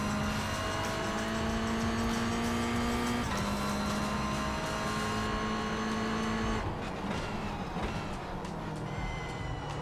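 A Ferrari GT3 race car in the iRacing game, with Mazda MX-5s racing close by. The engine holds a steady high whine, and clear gear shifts drop its pitch twice before it revs back up, loud and continuous.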